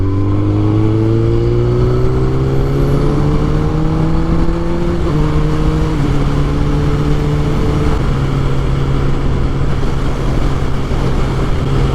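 A truck engine turning close by on a windy road: a steady, loud motor drone with harmonics that rise and then settle into a lower, even pitch as it manoeuvres, heard alone with no talking.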